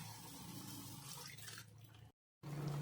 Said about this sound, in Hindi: इसलिए हम इसमें थोड़ा पानी डालकर मसाले में ऐड कर रहे हैं